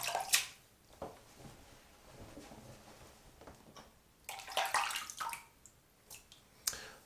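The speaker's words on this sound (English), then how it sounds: "All right, rinse my hand off." Running water splashes softly as a hand is rinsed off during a wet shave, with faint intermittent drips and splatters coming in short uneven bursts.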